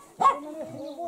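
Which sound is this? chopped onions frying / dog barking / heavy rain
dog barking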